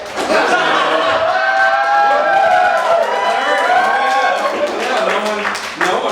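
A comedy club audience cheers and claps loudly after a stand-up joke, a sustained wash of whoops and applause lasting several seconds with a voice heard among it.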